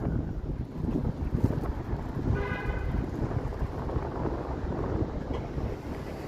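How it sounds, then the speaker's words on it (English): Strong wind buffets a microphone outdoors in Toronto on a warm evening, a constant low roaring rumble with gusty swells and no speech. "Windy though."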